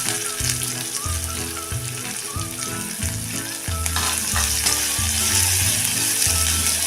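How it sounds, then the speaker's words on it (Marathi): Large pieces of onion sauté with lentils in a pan on low flame, a steady sizzle under repeated scraping strokes of a spatula, close and continuous. "थोडासा मऊसर होईपर्यंत हा कांदा आपण परतून घ्यायचा आहे"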